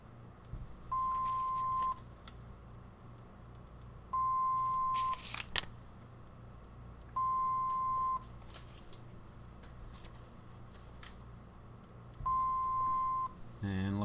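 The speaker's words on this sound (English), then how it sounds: "It does let you know with a high-pitched beep that it's a correct scan." MC-55 mobile barcode scanner giving four short, evenly spaced high-pitched beeps, one per successful scan, with faint handling clatter between them and no talk.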